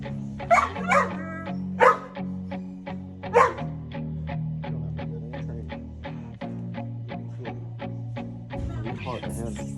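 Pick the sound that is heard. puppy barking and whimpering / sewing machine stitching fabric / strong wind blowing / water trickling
puppy barking and whimpering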